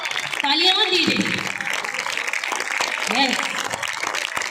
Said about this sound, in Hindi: इतना सस्ता तालियां मत दीजिए